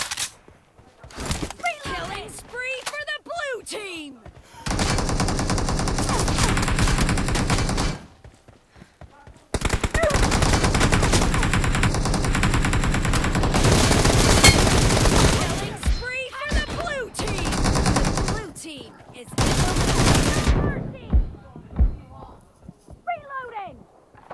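Gunfire in the battle royale game PUBG erupts in long automatic bursts and sharp single shots, broken by short quiet gaps, with voices speaking between the volleys.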